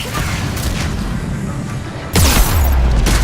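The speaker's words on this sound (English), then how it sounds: "Missiles are hot. Missiles away." Missiles fired and detonating in Mass Effect, a steady rumbling roar that breaks into a loud, close booming blast partway through, with no speech.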